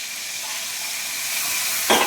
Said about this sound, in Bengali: তো রান্নাঘরে চলে আসলাম, ডিমগুলো ভেজে নেব।